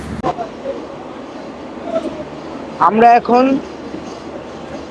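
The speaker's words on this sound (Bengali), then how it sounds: "চুয়াডাঙ্গা রেল স্টেশন থেকে 30 মিনিট লেটে চলছে আমাদের সীমান্ত এক্সপ্রেস। আমরা এখন চুয়াডাঙ্গা রেল স্টেশন থেকে চলে যাচ্ছি।" The Simanta Express, a night train from Khulna to Chilahati, pulls out of Chuadanga railway station with a steady rolling rumble. A voice speaks briefly over it from close by.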